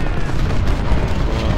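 Cannon fire in the Civil War strategy game Ultimate General: Civil War, heard as a dense, loud, continuous rumble of booming artillery with no separate shots standing out.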